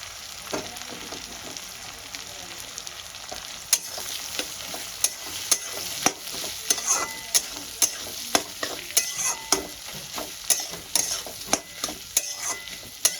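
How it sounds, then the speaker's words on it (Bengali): Onions frying in a pan until brown, a steady close sizzle broken by frequent sharp scrapes and clinks of a stirring spoon, with no talking. "পেঁয়াজটাকে আমি একদম বাদামি করে ভেজে নেব"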